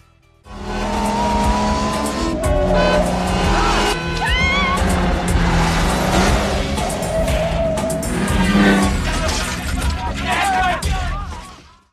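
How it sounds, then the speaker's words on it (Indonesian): An Aston Martin DB5 and a Ferrari F355 race past in a film scene, loud engines roaring and revving with tire squeals, joined by a blend of music and voices throughout. "James Bond yang mengendarai Aston Martin tipe DB5 terpancing egonya ketika seorang wanita cantik menaiki Ferrari F355 melintasi dengan sangat cepat"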